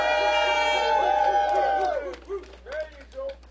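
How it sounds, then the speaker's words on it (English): An audience at a memorial event applauds with clapping and cheering, loud and dense at first, then thinning to scattered, fading bursts with voices and whoops. "Let's give her another round of applause"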